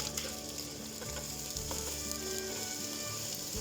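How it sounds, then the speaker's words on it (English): Pork and bacon fry in a pan with a steady, dense sizzle, occasional stirring clatter mixed in, close and continuous throughout. "So once the pork's fried off in the bacon"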